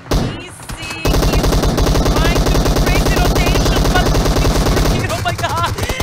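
Sustained automatic gunfire in the battle royale game PUBG Mobile, a dense rapid-fire burst rattling loud and nonstop for about four seconds after a brief quieter lead-in, then easing slightly at the end.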